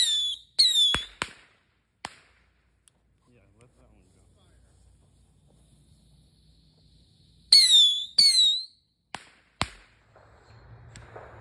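Small fireworks go off outdoors on the Fourth of July, sharp cracking pops with whistling crackles in two clusters separated by a quiet stretch, close and loud, with voices nearby.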